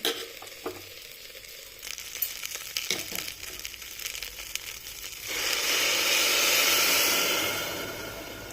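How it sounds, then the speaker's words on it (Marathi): Hot water is poured into rice in a pressure cooker while making a matar pudina dum pulao, and it rises into a loud hissing sizzle that swells and then slowly fades, following quieter stirring and clinking. "पाणी पण गरम झालेलं आहे, तर पाणी घालून घेते."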